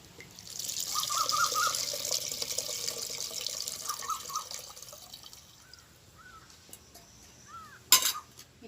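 A steady trickle of liquid as tamarind water is poured into a simmering fish curry, continuous for several seconds before tapering off. It ends with a short clink near the end.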